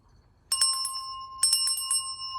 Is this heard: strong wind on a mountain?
no